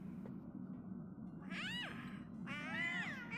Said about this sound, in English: They're meowing.